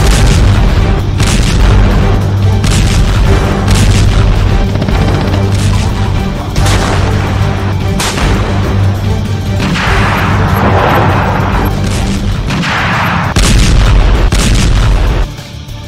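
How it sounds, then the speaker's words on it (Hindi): Ammunition depots in Ukraine explode in a loud, continuous barrage. Repeated heavy booms and sharp cracking blasts sit over a dense, rumbling roar. "रूसी सेना ने यूक्रेन के बम और बारूद से भरे गोदामों को धमाके के साथ उड़ा दिया है।"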